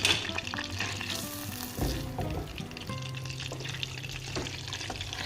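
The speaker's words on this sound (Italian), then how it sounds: "Facciamo sciogliere il burro in un pentolino." Butter melting in a small saucepan for béchamel, a soft sizzle under clattering utensil knocks and a steady low hum, close and fairly quiet over a few seconds.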